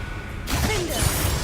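Incendio, a fire spell cast in the Hogwarts Legacy video game, erupts suddenly out of near quiet as a bright whooshing burst, then a rushing, crackling roar that carries on to the end.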